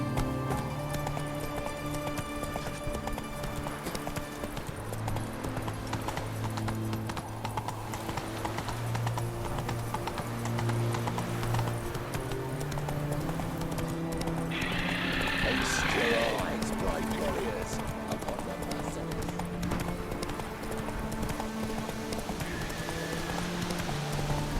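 Roach, a horse in the video game The Witcher 3, gallops with steady rhythmic hoofbeats under background music and in-game voices, while a brief whooshing sound passes midway.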